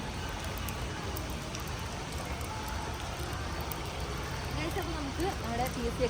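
Heavy rain falls steadily in Kannur city, a dense hiss of rain on surfaces that runs through the whole stretch at an even, moderate level. Faint talk and a little traffic sit underneath.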